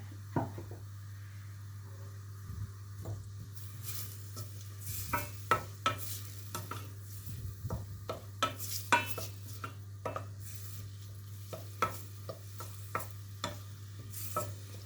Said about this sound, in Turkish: Soğanları güzelce kavuracağım arkadaşlar.